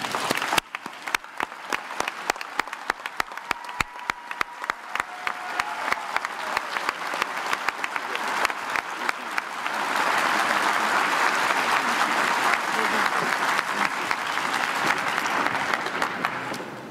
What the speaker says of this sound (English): join me in giving a round of applause for all of our generous donors